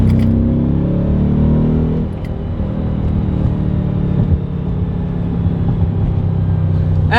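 An Audi B7 RS4 engine pulls hard under acceleration, a loud, close, steady rising drone with a brief dip around a gear change before it climbs again.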